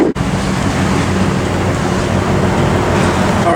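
Ford F250 pickup with a 460 EFI engine cruising on the road, a steady broadband drone of engine and road noise filling the cab, loud and continuous with no talk.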